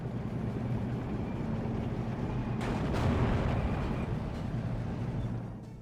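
Defensive artillery fire in a wartime strategy game, with an armoured assault on a fort, as a steady rumbling roar of distant barrages that swells in the middle before fading.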